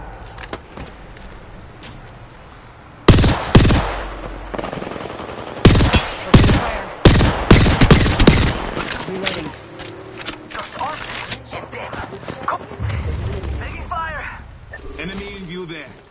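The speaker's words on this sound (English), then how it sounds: "They're firing on me." Bursts of automatic gunfire from enemies in a shooter video game, loud sharp volleys clustered in rapid sequence with quieter gaps, over steady game ambience and talk.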